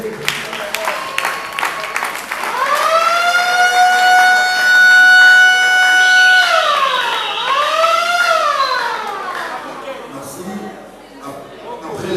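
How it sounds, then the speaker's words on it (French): Audience applause at the Tokanisa festival, a burst of clapping that runs through a loud, rising and wavering siren-like horn tone, with voices in the crowd. "Nous allons applaudir, s'il vous plaît."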